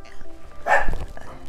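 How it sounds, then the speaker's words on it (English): Pet dogs bark in one close, loud burst midway through, with a person's voice audible around it in a home setting. "If you hear my dogs, I'm sorry."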